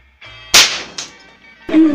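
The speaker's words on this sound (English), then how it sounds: "It's time to shoot some clay." A Ruger Airhawk air rifle of almost 16 foot-pounds fires a sharp, loud crack at clay targets outdoors. A second, fainter report follows about half a second later, then a louder burst of noise near the end.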